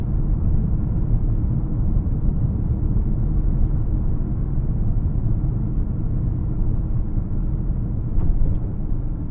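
A 2011 Saab 9-5 Aero Turbo6 2.8T XWD Stage 1 under throttle, heard from inside as a steady, loud low engine drone and road rumble that holds level throughout, with a faint rise near the end.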